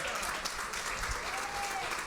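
A church congregation at a missions service claps steadily throughout, a dense wash of applause heard from a moderate distance with no voices.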